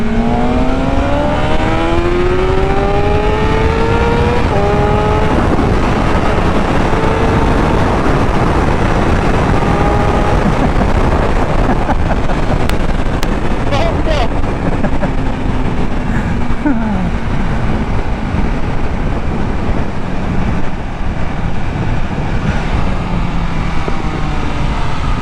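A BMW S1000RR motorcycle accelerates on the road, its engine rising in pitch through several gear changes, followed by a sustained roar and heavy wind noise on the microphone.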